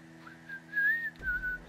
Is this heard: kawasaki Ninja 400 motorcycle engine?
no